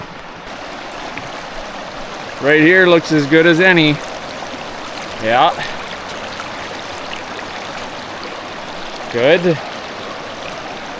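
A creek flows steadily with a constant broadband rush of water, close by and continuous, while someone speaks a few short phrases over it.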